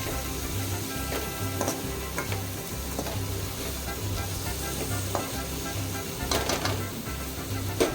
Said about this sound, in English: let's add the chopped tomatoes and stir fry it for another 2 minutes